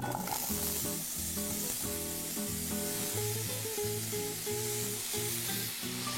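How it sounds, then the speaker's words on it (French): Parsnips sear in a little oil in an already hot pan, giving a soft continuous sizzle and hiss with faint scraping and stirring knocks from utensils, close and fairly quiet, with no one speaking. "on va commencer donc à faire saisir les panais en premier parce que la cuisson est plus longue"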